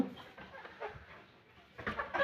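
Chickens cluck softly inside a coop, scattered faint calls with a louder burst of clucking toward the end.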